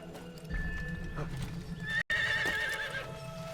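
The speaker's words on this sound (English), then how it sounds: "there's a horse over here" A horse in Assassin's Creed whinnies loudly and close by over a low ambient game backdrop, with hoof clops audible, and a brief dropout breaks the sound partway through.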